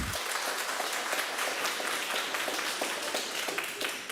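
Audience applause fills a committee hearing room, a steady burst of clapping from many people that fades slightly toward the end.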